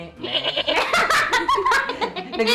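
Person mimicking a goat's bleat with a series of quavering, nasal vocal bursts, mixed with laughter.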